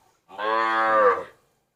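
A single long, loud moo from cattle at a livestock market in Wang Prachop, Tak, rising and lasting about a second in otherwise quiet surroundings.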